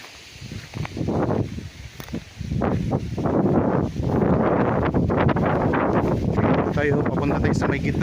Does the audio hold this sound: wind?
yes